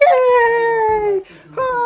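A dog on a hiking trail lets out a long, close, loud whimpering howl that slides downward, pauses briefly, then starts another rising whine.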